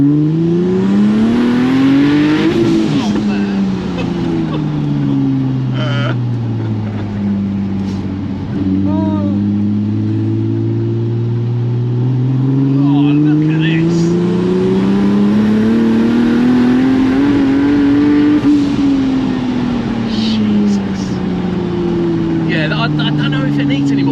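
A Ford F100 pickup with a swapped-in Nissan 370Z twin-turbo engine revs in steady rising and falling sweeps, loud and close, with a continuous engine drone throughout and speech heard over it.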